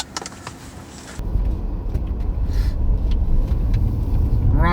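A car engine rumbles up and pulls away, the low road noise rising and holding steady as the vehicle moves off.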